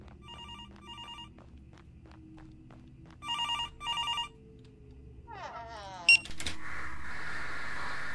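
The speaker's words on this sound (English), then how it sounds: "Someone's ringing the phone." An old-style telephone bell rings in the horror video game Graveyard Shift, two pairs of bright trilling bursts, then a sudden harsh sweep and a loud noisy jolt that lingers as a steady hiss.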